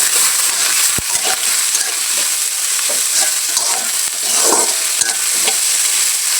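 Onion, green chili, garlic and ginger frying in hot oil, a loud steady sizzle with scraping stirs and a few sharp clicks of a utensil on the pan.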